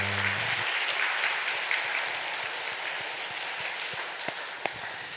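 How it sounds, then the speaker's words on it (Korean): Congregation at a Sunday church service applauds together, a full, steady burst of clapping that begins after a brief tone and tapers slightly toward the end. "우리 힘차게 박수."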